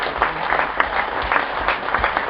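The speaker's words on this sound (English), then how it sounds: "Good applause, as you'd expect, for a local hero" Cricket spectators at Essex v Somerset clap as local hero Alistair Cook walks off after making 80, a modest, close-miked patter of scattered hands with light uneven pulses, no voices over it.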